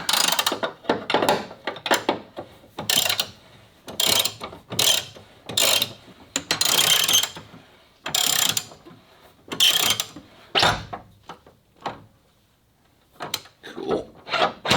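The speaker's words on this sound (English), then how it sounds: "I'm gonna have to hold the middle of the shock with a Torx bit, and then turn this nut off." Ratchet wrench cranking the upper shock nut off a 2000 Mustang GT's rear suspension, rapid clicking bursts in repeated runs, close and loud, with short pauses between strokes.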